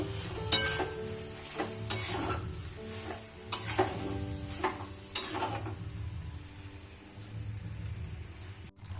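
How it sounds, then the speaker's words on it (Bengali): Curry masala sizzles in a pan while a utensil stirs and scrapes, with several sharp clinks against the pan over a low continuous frying hiss. "তারপরে আর একটু কষিয়ে নেব।"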